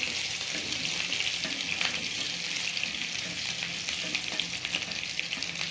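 Onions frying in oil for a dal tempering, a continuous close hiss and crackle of sizzling at an even level, with no talking.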